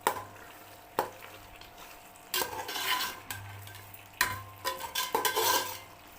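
A spoon stirs and scrapes through a chicken biryani mixture in a pot, giving several distinct knocks against the metal and a soft wet churning between them, close and fairly quiet.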